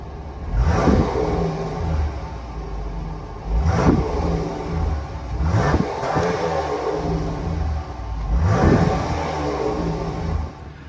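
A 2022 Jeep Grand Cherokee L's 3.6 liter V6 revs through dual exhaust tips in four distinct throttle blips, each rising sharply and falling back to a steady, rumbling idle, close and loud with no talking.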